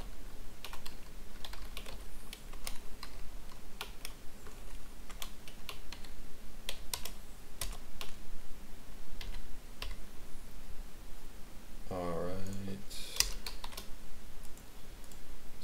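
Rapid typing on a computer keyboard, close and alone, with dense irregular key clicks, short pauses and a brief clunk near the end.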